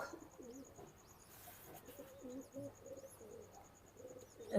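A high-flying pigeon coos in low repeated phrases, faint and close, with faint high chirping behind it and a sharper sound at the end.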